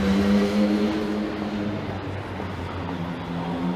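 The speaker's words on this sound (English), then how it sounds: "That motorcycle just went right through the intersection" An engine drones steadily as a motorcycle passes nearby through an intersection in downtown Toronto, its pitch shifting slightly over a background of street traffic.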